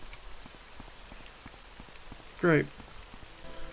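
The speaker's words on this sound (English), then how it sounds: "Oh, it's raining now, great." Steady rain patters throughout in Morrowind, a fine hiss under the game's ambience, with a brief spoken word from a player cutting in partway through.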